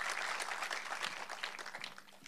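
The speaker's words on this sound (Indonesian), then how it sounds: "Tepuk tangan buat Yesus." Indonesian church congregation clapping and applauding during a healing service, a dense wash of handclaps from a crowd indoors that thins out toward the end.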